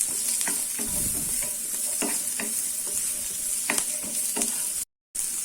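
Three medium onions cut lengthwise sauté in oil with a continuous close sizzle, while a spoon scrapes and stirs in irregular sharp strokes before a brief dropout near the end.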